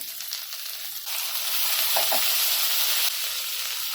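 Tomatoes drop into golden-brown frying onions in a pan, and the sizzle rises to a louder, steady hiss with brief stirring scrapes, no voices.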